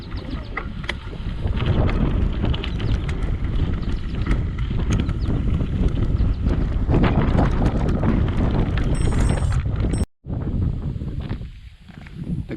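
Breezy wind on a trail ride roars steadily across the microphone, loud and continuous, then drops out briefly near the end before gusting back.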